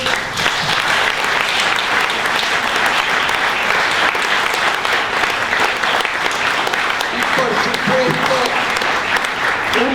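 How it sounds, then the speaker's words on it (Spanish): Loud, sustained audience applause at a book presentation about Argentina's dictatorship, continuous dense clapping for the full length, with a voice briefly audible near the end. "Yo voy a pedir un fuerte aplauso por ellos."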